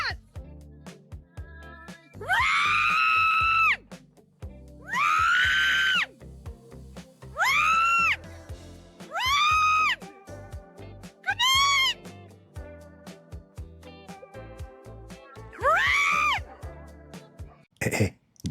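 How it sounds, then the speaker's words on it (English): A woman screams in repeated loud, pitched bursts, about six shrieks spread over eighteen seconds with short gaps, over a busy background of clattering and low noise. "Good thing she was there to scream."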